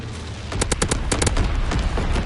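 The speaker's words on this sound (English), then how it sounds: "Low altitude bomber inbound." An incendiary bomb strike from a low-altitude bomber in a PS4 war game, a dense, loud, continuous roar with rapid crackling bursts and rumbling impacts layered throughout.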